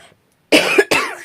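Two close, harsh coughs from a person with a sore throat, in quick succession after a brief silence.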